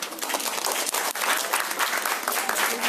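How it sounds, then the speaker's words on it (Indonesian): An audience at a public history discussion claps steadily, a dense wash of hand claps from a crowd sustained throughout, without talking over it. "Ayo tepuk tangan buat"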